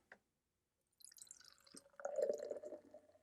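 Non-alcoholic beer hard-poured into a glass: after a faint tap and a brief silence, liquid splashes and gurgles close by, swelling into a fuller, louder foaming pour over the last couple of seconds.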